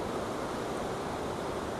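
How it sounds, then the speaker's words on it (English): Grey Mare's Tail waterfall near Glencoe, Scotland, pours in a steady, dense broadband roar with no pauses, close and continuous, wind-like hiss over low rumble. "It's called Greymare Waterfall."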